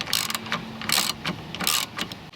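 A ratchet loosening 7mm bolts on a Ford Crown Victoria instrument cluster, quick bursts of close, bright clicking in an uneven rhythm, with short pauses between strokes.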